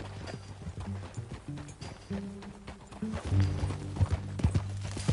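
Horse hooves clip-clopping in a steady, uneven rhythm over a low, droning musical background in the video game Red Dead Redemption 2.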